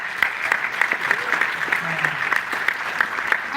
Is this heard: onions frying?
no